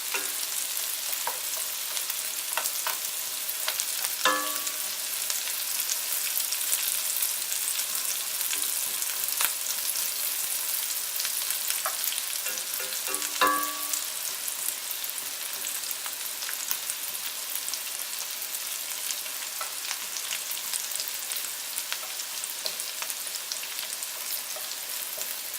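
Steady crackling sizzle of shirataki noodles frying in hot bacon grease, with occasional faint clinks and stirring, continuous and fairly close, no talking.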